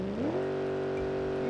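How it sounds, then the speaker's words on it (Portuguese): A car engine in the BeamNG Drive video game on a long, fast ski-jump ramp: a sharp rev climbs in pitch, then settles into a loud, steady high whine that holds at speed, with no talk. "olha o motor"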